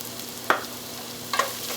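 Onions, green cardamom, cinnamon, cloves, bay leaf, red chilies, garlic and ginger paste fry in a pan for butter chicken gravy, a steady soft sizzle broken by two brief stirring scrapes, close and moderately quiet with no talk.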